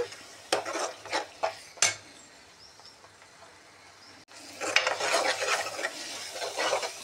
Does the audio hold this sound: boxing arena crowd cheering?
no